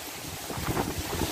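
Strong storm wind sweeping through a village, a loud rushing roar buffeting the microphone with gusts that swell toward the middle and end, no voices over it.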